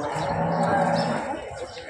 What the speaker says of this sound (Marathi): राहुल भोसले यांची तिसऱ्या वेताची म्हैस आहे